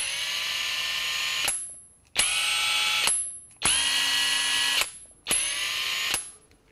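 A cordless Makita power tool runs in four separate bursts of about a second each, its motor whine rising to a steady high pitch and cutting off between runs.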